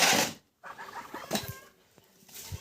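A hen in a rural farmyard clucks in a few short, faint bursts, with a brief gap of silence and some low background rustling.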